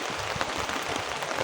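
Heavy typhoon rain pours down in a dense, continuous hiss, loud and close, with no speech over it.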